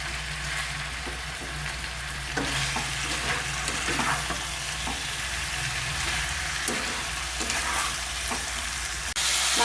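Marinated chicken stir-fried in a pan for a Bengali coriander chicken curry gives a steady, close sizzle, with a spatula scraping and stirring in irregular strokes throughout and no voices.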